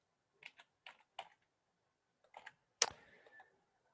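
Computer keyboard typing comes in a few sparse key presses: three quick taps, a pause, two more, then one sharp louder keystroke, all close and isolated in near silence.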